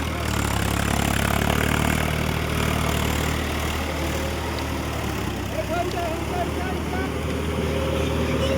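A Swaraj 744 XT 4WD tractor engine runs steadily throughout, a continuous loud low rumble while tilling a seedbed field under full load.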